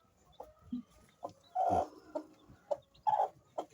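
A brooding hen with her chicks clucks nearby in short, irregular bursts, with a few louder drawn-out clucks standing out against a quiet background and no talking.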